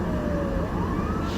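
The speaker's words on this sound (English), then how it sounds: "Yeah, that is the 4th ambulance that's passed." Ambulance siren passing on a road, a faint wailing tone heard from inside a moving vehicle over steady road and engine rumble.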